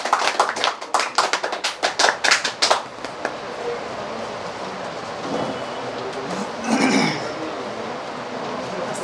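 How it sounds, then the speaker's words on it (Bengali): An audience bursts into applause for a speaker at a gathering, a dense patter of many hands clapping for nearly three seconds before fading into a quieter murmuring room. "ওনার উদ্দেশ্যে জোরদার করতালি দিব আমরা"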